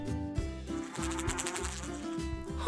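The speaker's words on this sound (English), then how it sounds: "Honeybee." A honeybee buzzes steadily and close, with a constant droning hum against a busy background and no one talking.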